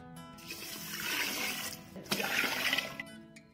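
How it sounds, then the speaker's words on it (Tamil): Water poured into a pot of washed toor dal, moong dal and rice for sambar rice in a rice cooker, a steady splashing, trickling pour that swells and surges twice, close and fairly loud, with no talk. "ஒரு 4 கப்பு தண்ணி சேர்த்துக்கலாம்."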